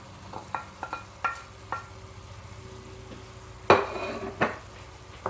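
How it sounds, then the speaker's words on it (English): Cinnamon, flour and salt are stirred together in a bowl, with scattered utensil clicks and scrapes, one louder knock near the end, over a low steady hum and no talking. "And you mix it up."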